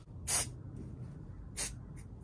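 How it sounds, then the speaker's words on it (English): Two short hissing sprays from an aerosol can of brake cleaner, close by, separated by a pause over a low background rumble. "That's how you spray brake cleaner all over yourself."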